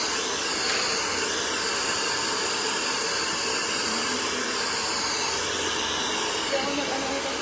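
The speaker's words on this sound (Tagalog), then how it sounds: "Pasuin mo ng blower yan dito" A hair blow dryer runs steadily and loudly throughout during a blonde butterfly haircut, a continuous whooshing hiss with airflow roar that never pauses.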